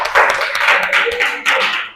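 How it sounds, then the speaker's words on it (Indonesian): Classroom applause for group 3 as they come up to present: a dense burst of many hands clapping together, loud and close, swelling in waves for about two seconds with no talk over it. "Tepuk tangan dulu kelompok 3"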